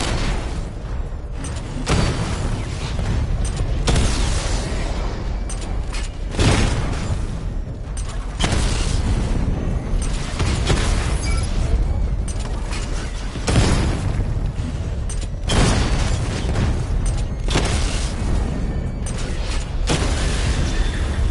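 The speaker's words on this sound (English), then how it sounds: "Charge up missile barrage to level 2 and destroy 4 active targets to complete diagnostic test." A missile barrage in Batman: Arkham Knight sets off a string of loud, broad booms every couple of seconds, with mechanical creaks and clanks running between the blasts and no voices.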